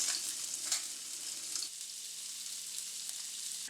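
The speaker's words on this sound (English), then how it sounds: "I'll just like sear all the sides" Salmon pieces searing in a hot pan, a loud bright hiss of sizzling oil that crackles strongly at first and then settles to a steadier fry, with no voices.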